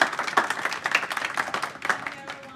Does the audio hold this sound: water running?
no